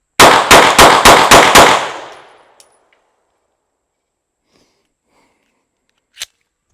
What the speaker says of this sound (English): Draw and fire 6 on the Alpha at 7 yards.